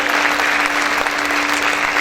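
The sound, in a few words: congregation applauding in church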